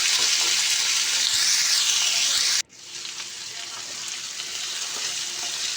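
Sliced potatoes drop into hot oil with whole poppy seeds already fried in the pan, a loud sizzle that cuts off abruptly, then a softer, rising crackle of frying continues.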